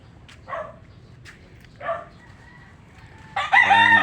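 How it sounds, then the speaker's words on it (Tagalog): Chickens beside a mango tree give short, close clucking bursts, then a rooster breaks into a loud crow at the end. "Guys, mga manok ko."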